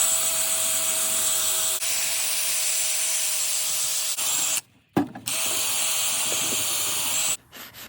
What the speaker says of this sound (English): let's take a wire brush and see if we can knock some of this rust off.